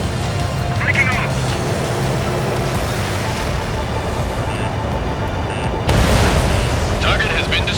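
Enemy target destroyed in Ace Combat 7: Skies Unknown, a deep rumbling explosion over steady jet engine drone, with a second burst near the end, loud and close, while radio voices speak over it.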